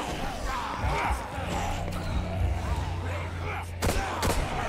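Gunfire in the video game The Evil Within 2, a few heavy shots with booming low thuds and sharp cracks near the end, mixed in with a player's excited talking and game background noise.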